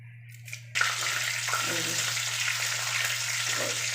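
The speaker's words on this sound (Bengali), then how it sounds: "আমি এতে ফোড়ন দিয়ে দিচ্ছি গোটা গরম মশলা, জিরে আর তেজপাতা" Whole garam masala, cumin seeds and bay leaves hit hot oil for a Bengali doi katla fish curry, setting off a sudden loud, steady sizzle after a short quiet start, with faint stirring clinks in the pan.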